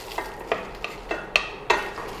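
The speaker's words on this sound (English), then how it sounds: "The hot pan, the jeeras get roasted nicely." Cumin seeds roasting in a hot pan with the stove switched off, stirred in a series of about six distinct scraping strokes over a faint sizzle, close by, no talking.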